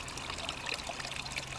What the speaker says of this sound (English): And my little waterfall.